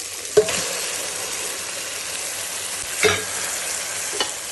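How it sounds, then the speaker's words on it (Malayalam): Liver stirred and fried in oil with masala, with no water added: a steady sizzle runs throughout, broken by a few sharp clinks of a spoon against the pan. "നന്നായി എണ്ണയിൽ തന്നെ വയച്ച് വരച്ചെടുക്കുക വെള്ളം ചേർക്കാതെ വഴറ്റുക"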